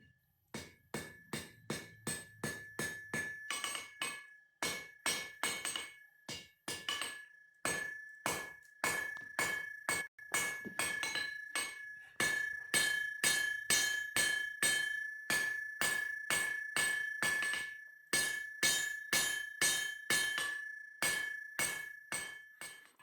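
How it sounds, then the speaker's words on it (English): Hammer blows ring out on an anvil while tong jaws are forged from bar stock at either end, a long steady run of sharp metallic strikes with a clear ringing tone, some quick bursts and short pauses, close and alone. "I rough these jaws out with a large hammer and then go back with a smaller hammer to refine them."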